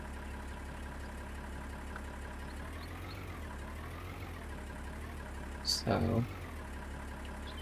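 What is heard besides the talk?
tractor engine in Farming Simulator 19 video game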